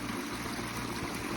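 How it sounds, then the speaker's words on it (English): Small backyard ecosystem pond with a waterfall and a submerged power head recirculating water, a steady dense splashing and trickling wash, close and constant, with no voices. "I think you can tell a lot of this surface agitation is from the waterfall"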